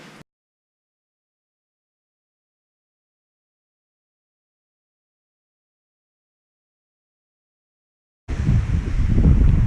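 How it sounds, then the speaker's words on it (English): Near silence, then strong wind on a cliffside hiking trail suddenly roars and buffets the microphone loudly for the final moments. "We're kind of freaking out a little bit just because it's so freaking windy."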